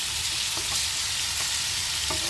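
Bele fish lowered into hot oil fry with a loud, dense, unbroken sizzle and a few faint knocks, heard close up with no talking.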